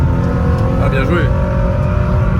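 Engine of a Toyota GT86 under acceleration with the tires starting to lose grip, a loud continuous drone filling the cabin while a voice speaks briefly over it.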